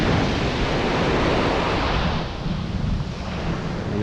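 Big waves break heavily on a beach shore in a continuous roaring wash of surf, loud and close, with wind buffeting the microphone and no voices.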